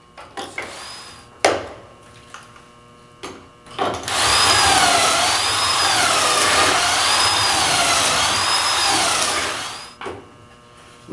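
Power drill boring pocket holes into a cabinet drawer: a few short bursts of drilling, then a sustained whining run with a wavering pitch lasting several seconds, close and fairly loud, ending with knocks.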